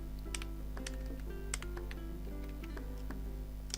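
CSS code, including a style.css file reference, is typed on a computer keyboard in quick, irregular bursts of light clicks and taps, faint over a low steady hum, with no speech.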